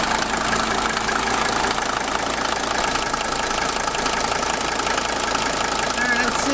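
A 1983 Mercedes W123 300TD with the OM617 diesel idles steadily just after startup, giving a loud, continuous rough clatter close by that stays even throughout.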